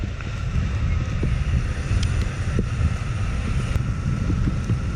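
A Flipsky dual-motor electric skateboard accelerates under throttle up and over a hill, its steady motor whine partly buried under loud, continuous wind rush on the microphone.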